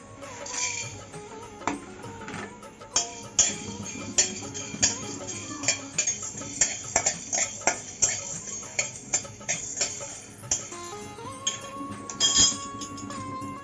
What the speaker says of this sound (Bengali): লবঙ্গ নিয়েছি, দারচিনি নিয়ে নিয়েছি আর এলাচ নিয়ে নিয়েছি আর একটা জয়িত্রী নিয়ে নিয়েছি। এখন আমি এগুলিকে ভেজে নেব।